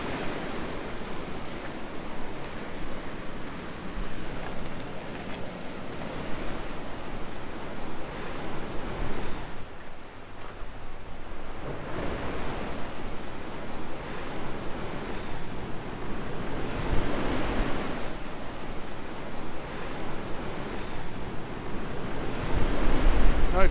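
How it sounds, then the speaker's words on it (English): Big ocean swells, around 2.5 meters with long gaps between sets, breaking and surging along the Kalbarri coast in Western Australia. A continuous, loud wash of surf with wind noise on the microphone, briefly easing midway before swelling again toward the end. "It's pretty big swells here."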